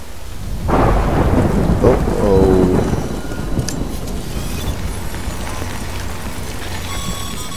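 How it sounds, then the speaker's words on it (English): Timefall rain pouring with a heavy rolling thunderclap in the Death Stranding video game, the thunder rumbling loud and close for several seconds before fading into a steady hiss of falling rain. "Good thing it was raining."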